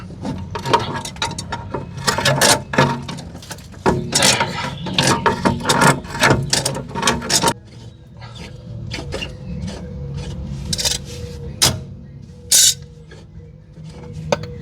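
Ratchet wrench working a nut off a suspension arm on an abandoned BMW X5, loud close bursts of fast clicking and grinding strokes, then sparser clicks and scrapes after a pause.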